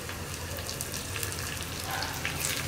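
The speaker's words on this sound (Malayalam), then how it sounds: "ഇതിലേക്ക് നമുക്കിനി കറിവേപ്പില ചേർക്കാം" Curry leaves frying in a pan with browned onion and green chili give a steady close sizzle and crackle, alone with no voices.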